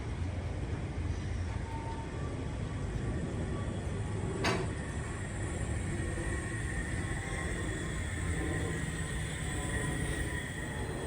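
A long intermodal freight train loaded with Mediterranean shipping containers rolls past in a steady continuous rumble and wheel clatter, with one sharp metallic squeal midway.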